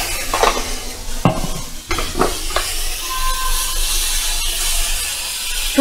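A spoon stirs spices and turmeric in a hot pan, giving scraping clinks against the metal at an uneven rhythm over a continuous soft sizzle and hiss, close and fairly loud.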